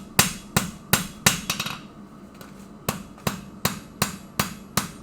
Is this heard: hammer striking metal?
yes